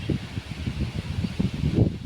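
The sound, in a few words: wind blowing through trees in a field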